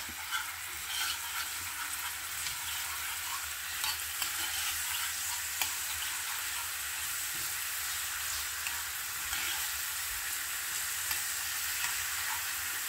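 Jamaican-style jerk chicken cooking with peppers frying in a pan, a steady broadband sizzle with scattered scrapes and clinks of stirring throughout, close and continuous with no talk.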